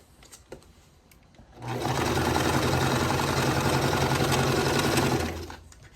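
A sewing machine stitching quilt petals for a Calico Bird quilt kit starts after a quiet moment with a few clicks, then runs in one steady, loud mechanical whir for about four seconds before stopping.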